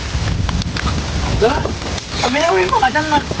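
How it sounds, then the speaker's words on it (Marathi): Steady rain patters through jungle trees, with water dripping from above, while people talk close by. "पाऊस पडायला लागलाय"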